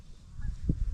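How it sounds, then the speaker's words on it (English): Wild geese honk as they lift off during a waterfowl jump-shooting hunt, with a brief nasal call rising over low, gusty rumbling and wingbeat thumps, moderately close. "More geese getting up."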